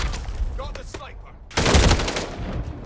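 Automatic rifle fire during a Call of Duty Modern Warfare III team deathmatch on the Terminal map: a loud, dense burst of rapid shots breaks in after a brief stretch of someone talking.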